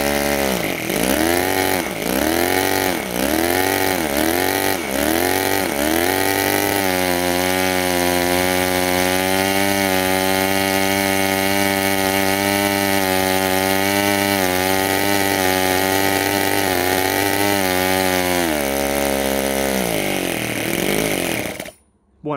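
A homemade 7cc two-cylinder Otto engine, about 1 HP, snarls loudly up close, blipped repeatedly at first, then held at a high, steady scream near 12,000 RPM before dropping off and cutting out.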